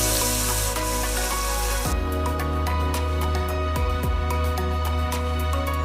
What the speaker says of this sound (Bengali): এভাবে বাকি মাছগুলিও ভেজে নেব।